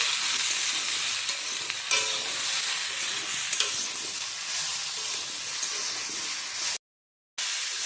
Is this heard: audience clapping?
no